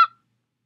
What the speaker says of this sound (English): I'll go ahead and put in a goose sound effect